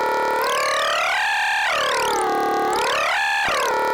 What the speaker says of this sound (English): show you why I made this wavetable for the sync part here, because it actually sounds quite cool if you swipe through this